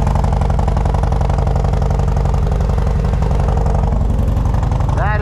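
A motorcycle idles close by with a steady, low, even rumble that runs unbroken throughout, and a brief rising whine enters right at the end.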